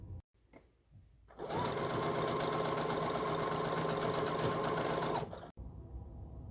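A sewing machine runs in one continuous burst of about four seconds, stitching a gathered stay inside a dress sleeve, with a steady close whir and rapid needle chatter between quiet pauses.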